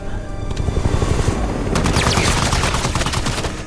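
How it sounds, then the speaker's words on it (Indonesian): Rapid bursts of helicopter gunfire rattle loudly over a heavy, continuous rotor roar in the film The Expendables 4, growing denser and more intense partway through. "Dan ternyata serangan yang membantu Chris ini adalah serangan helikopter yang dikendarai Barney."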